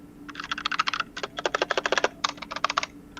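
Fast clattering keystrokes on a computer keyboard, with bursts of rapid taps separated by brief pauses, close and fairly crisp, with no voices over them.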